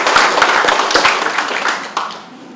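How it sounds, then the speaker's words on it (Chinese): A small crowd claps at a township mayor's reinstatement handover ceremony in Xiulin, with sharp, uneven handclaps close by that thin out and fade near the end. "拥抱一下来个掌声。"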